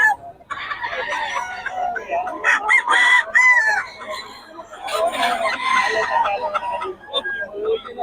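Roosters crow repeatedly while hens cluck around them, a busy, loud farmyard chorus with people talking intermittently underneath.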